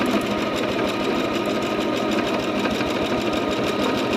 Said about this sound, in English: And this is how I can free motion quilt on this machine